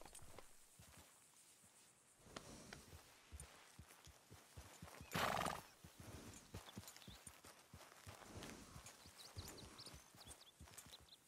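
Horse hooves clip-clop steadily in the Red Dead Redemption 2 video game, a close rhythmic run of hoofbeats with one brief louder burst midway.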